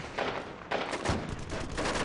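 Rapid bursts of gunfire with heavy mortar and RPG thuds ring out around a fortress during a Taliban uprising, a dense, continuous barrage of sharp cracks and booms at close to middle distance.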